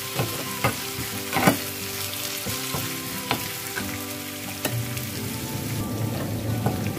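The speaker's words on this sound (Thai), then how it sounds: "เกลือลงไปผัดให้หอมเลยจ้ะ" Garlic and salt stir-fry in oil in a pan, giving a soft continuous sizzle broken by sharp clicks and scrapes of a utensil stirring, close and fairly quiet.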